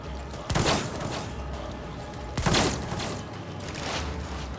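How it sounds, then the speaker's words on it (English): Grenade explosions in the Warhammer 40K Rogue Trader video game: two sharp, loud bursts a couple of seconds apart, each with a brief rumbling tail, over a steady low game backdrop. "lot of grenades going on here"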